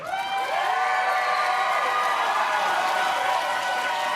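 A convention panel audience applauds and cheers loudly and continuously, swelling in after a brief moment and holding steady.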